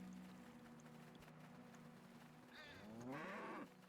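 A cow in the fantasy role-playing game Neverwinter Nights lets out a single low, drawn-out moo near the end, rising out of a quiet, steady ambient background.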